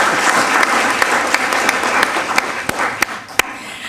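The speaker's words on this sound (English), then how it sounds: "can we have an applause in absentia for him?" A modest room of people at a school district board meeting claps steadily, a close, even patter with a few sharper individual claps standing out.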